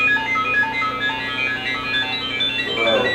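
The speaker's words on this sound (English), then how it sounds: "Whoa, what kind of sound is that? I've never heard that from an iPhone." An unusual iPhone ringtone plays as a steady, sustained melodic electronic tone pattern. It is fairly loud and continuous, over a low background hum.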